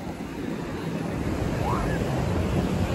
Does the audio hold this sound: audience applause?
no